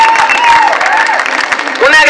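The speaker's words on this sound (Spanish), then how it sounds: "¡Un gran aplauso!" Crowd at an urban highline competition claps and cheers briefly, with whistles and loud shouting voices over the applause.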